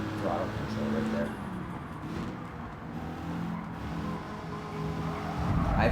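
Race car engine in the Gran Turismo 7 racing game, a continuous droning engine note with shifting pitch and some tire noise, steady and moderately loud beneath someone talking.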